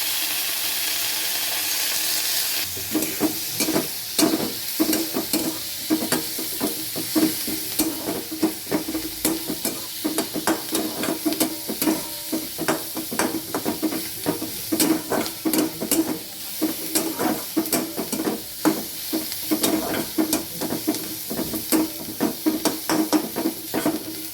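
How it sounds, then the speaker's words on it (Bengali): Sliced onion and green chilies sizzle steadily in hot oil while a spatula stirs them with frequent scraping clicks against the pan, continuing for over twenty seconds without talk. "পেঁয়াজ ভাজা হয়ে গেল আর্ধেক ভাজা হয়েছে দিয়ে দিলাম রসুন রসুনটা ভাজা হোক"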